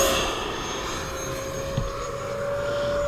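An E-flite Viper RC electric ducted fan jet flies fast overhead, giving a steady, loud rushing whine with a sustained high tone that holds throughout without a break.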